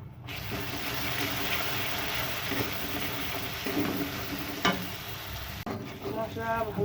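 Water poured into a pan of spiced egg curry masala, a steady wash of pouring and sizzling that stays loud throughout, with a brief spoon clatter late on.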